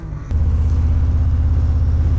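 Steady low engine drone with a broad wind roar from riding a 2017 Harley-Davidson Road King with no windshield, loud and continuous after a brief quieter start.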